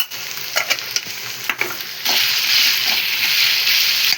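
Ginger paste and turmeric frying in a pan as they are stirred together: a few scraping strokes at first, then a steady, close hiss of sizzling that fills the rest of the clip.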